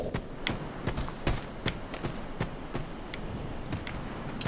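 Footsteps in Dark Souls 2: about a dozen distinct, fairly close thuds at an uneven walking pace, heard alone over a low ambient murmur.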